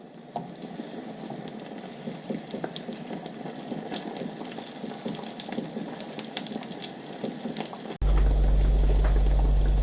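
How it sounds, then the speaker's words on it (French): Small stuffed pea breads (mattar kachori) frying in hot oil, giving a steady close sizzle and crackle that runs unbroken before a sudden louder hum takes over near the end. "je suis en train de les frire là"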